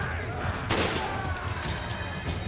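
A single loud sniper rifle shot rings out in Resident Evil 5, sharp and close, then fades into steady game background noise with a faint ringing tone and no voices.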